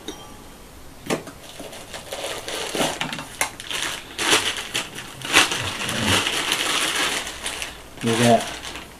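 A Trangia camping stove kettle, about 35 years old, handled in a series of close metallic clinks, scrapes and knocks with irregular rhythm, including a brief rattling clatter near the end, with no talk over it.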